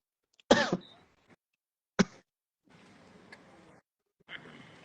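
A couple of sharp throat-clearing coughs, close and abrupt, separated by silence, then some faint rustling noise.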